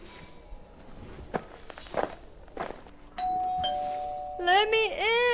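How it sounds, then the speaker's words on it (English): A doorbell rings in a game: footsteps patter first, then a steady electronic chime sounds and shifts into a wavering, melodic ding-dong tone, loud and clear. "Heard the doorbell."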